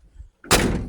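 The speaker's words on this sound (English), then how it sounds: "Close the door." The door of a 1984 Ford F-150 truck slams shut in a single loud, close thud with a brief rattle, after a quiet moment with faint low rumble.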